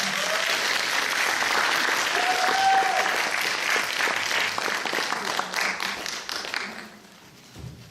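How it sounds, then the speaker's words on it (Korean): Audience at a student disability-rights presentation contest applauds to welcome two high-school presenters, with sustained dense clapping that tapers off toward the end. "큰 박수로 모시겠습니다."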